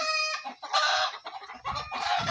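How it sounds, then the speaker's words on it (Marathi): A hen held calmly in someone's hands gives a few short, close clucks in quick succession, with brief pauses between them. "हे बघा कोंबडी किती शांत राहिलेली आहे"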